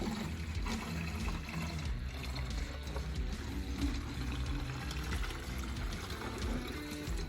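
Milk splashes and pours into calf bottles filled without a funnel, a continuous close liquid trickle and spatter with uneven gurgling bursts throughout.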